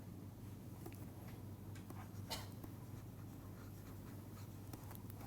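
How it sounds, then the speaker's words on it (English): Pen or pencil scratches faintly over paper as equations are written by hand, a soft, continuous scribbling over a steady low hum, with no speech. "we will write down simple equations"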